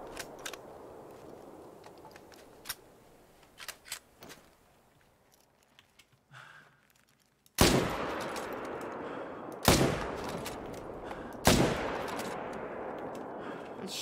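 Sparse gunshots in a monster-hunting video game: a few faint distant cracks early, then three loud close blasts spaced a couple of seconds apart, each with a long fading tail.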